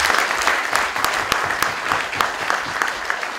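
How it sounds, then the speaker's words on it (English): A debate audience claps for the affirmative side, a dense, steady round of applause from a modest crowd with sharp individual claps standing out throughout. "if you are supporting the affirmative side of tonight's debate, please give them a round of applause"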